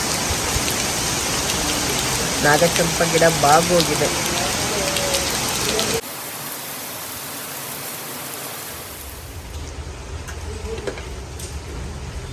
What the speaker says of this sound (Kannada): ಈಗ ಜೋರಾಗಿ ಮಳೆ ಸುರಿತಾ ಇದೆ ನೋಡಿ ಈಗ